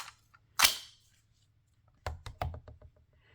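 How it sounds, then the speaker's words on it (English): An empty magazine seats into an IWI Jericho 941 pistol: one sharp click near the start, then a quick run of lighter metallic clicks and rattles, close and alone. "So we're going to go ahead and load it with an empty magazine first."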